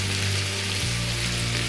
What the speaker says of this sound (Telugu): ఇదంతా బాగా ఫ్రై చేసుకోండి.